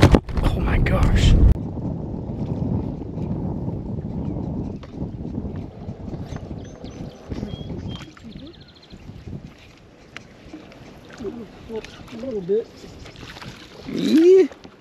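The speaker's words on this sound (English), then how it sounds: "Wind's still blowing though." Wind blows across a fishing boat on open water, a steady gusty rush buffeting the microphone, with bumps and knocks on the hull and people talking briefly.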